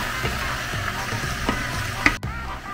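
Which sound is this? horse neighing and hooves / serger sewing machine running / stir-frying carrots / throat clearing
stir-frying carrots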